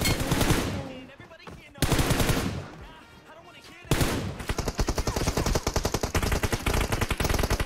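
Loud gunfire in a shooting video game, first two separate bursts with gaps between them, then a long sustained run of rapid, evenly spaced automatic shots close up.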